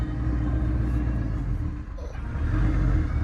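A modified 2014 Shelby GT500 engine with aftermarket cams idles and loafs at low revs, a deep, lumpy rumble, steady and close, with slight surges in loudness.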